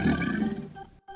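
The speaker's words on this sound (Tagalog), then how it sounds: "Buaya." A crocodile gives a single deep, rasping growl-roar, loud and close, that fades out and then briefly resumes after a short silent gap.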